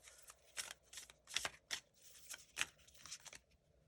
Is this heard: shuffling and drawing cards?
yes